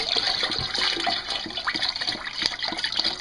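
Vegetable stock pours steadily into a turkey brine, a continuous splashing, gurgling stream of liquid heard close up with no talking.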